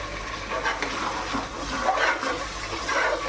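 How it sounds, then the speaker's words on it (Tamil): Mint leaves, about a handful, tossed into biryani masala frying in a pan, giving a steady close sizzle with soft stirring scrapes and brief rustling bursts throughout, no voices. "இப்போது புதினா 1 கைப்பிடி அளவுக்கு போட்டுக்கலாம்."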